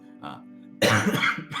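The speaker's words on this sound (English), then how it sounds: "Sean's actually going into a coughing fit." A video game character gives a soft throat rumble that gives way to a sudden burst of harsh, rough coughing, close and loud, lasting about a second.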